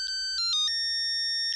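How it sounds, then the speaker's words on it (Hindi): Mobile phone ringtone in a Hindi sitcom scene: a short run of bright, clear electronic tones in a quick melodic pattern, loud and close, with no voices over it. "रोशन को याद किया और रोशन का फोन आ गया"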